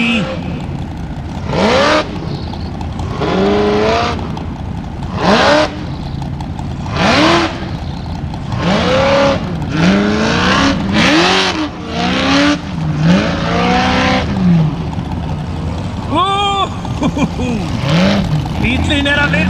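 Formula offroad race cars rev hard on an Icelandic track at Hella, engines rising and falling in repeated loud bursts with sweeping pitch as they climb, while a commentator talks over them.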